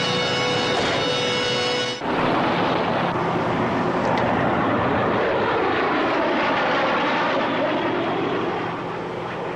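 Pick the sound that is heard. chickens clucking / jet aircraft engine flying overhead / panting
jet aircraft engine flying overhead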